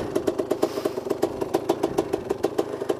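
A 1985 Honda CR250R two-stroke motorcycle engine idles close by, its steady, evenly spaced popping pulses running throughout with no voices over it.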